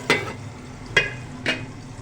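Sliced potatoes and capsicum frying in a pan with oil, under a steady low sizzle, with three sharp scraping stirs of a spoon against the pan, close up.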